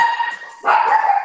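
A dog barks indoors close by: two sharp, clear barks in quick succession with no talk over them.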